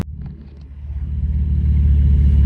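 Car engine rumbling loudly up close and building steadily as it revs before setting off on a lap, a deep low growl with a rough, pulsing texture and no talk.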